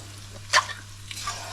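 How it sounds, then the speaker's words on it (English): Chilli, garlic and kaffir lime leaves sizzle softly in a pan as one sharp scrape of stirring cuts through, followed by lighter shuffles in the oil. "The chilli, garlic, kaffir lime leaves in there, and I'll give that a little bit of a mix"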